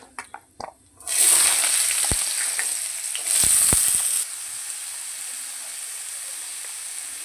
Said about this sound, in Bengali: তো আলুগুলো হালকা করে ভেজে নিয়েছি।